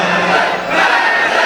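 A crowd at a religious majlis for 15 Shaban in Chak 60/5.L, Sahiwal, shouts a slogan in unison. It is a brief, loud, massed cry from many voices close by.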